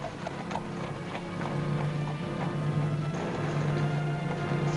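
Hooves of a horse pulling a wagon clip-clop in a steady walking rhythm beneath a low rolling rumble of wheels, continuous and moderately close.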